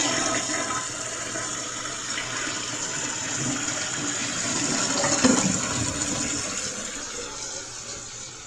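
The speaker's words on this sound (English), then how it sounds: "This is flush number 5. Or is this 4?" A hall bathroom toilet flushing during a water flow test, a steady close rush of draining and refilling water that runs the whole time with no talking.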